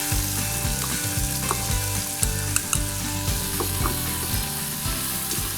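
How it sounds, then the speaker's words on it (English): Onions sizzling in butter in the sauté pot of an Instant Pot, a close, dense frying hiss with soft scraping and stirring clicks scattered through, alone with no voices. "we're gonna let these onions cook for just a few minutes with this butter"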